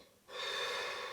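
A snoring character in a children's animated bus cartoon lets out one drawn-out, breathy snore that begins abruptly after a brief hush and holds steady to the end.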